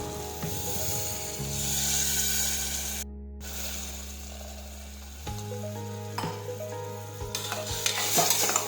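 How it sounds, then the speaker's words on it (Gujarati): A spoon stirs guvar and potato curry in a cooker pot, scraping and swishing with a steady sizzle beneath, broken by a brief clank partway through and a few sharper knocks near the end. "ફરી પાછું આ રીતે ચમચું ફેરવી લઈશું."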